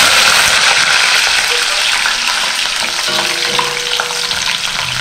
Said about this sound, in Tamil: எண்ணெய் காஞ்சோடனே இந்த வெந்தயம் போடுங்க. அடுத்து வெந்தயம் செவந்த உடனே பூண்டு,